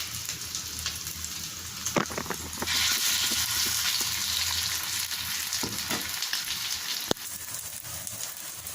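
Fish cutlets frying in a pan on a low flame, a continuous close sizzle like steady rain with a few brief clinks and taps against the pan, no voices.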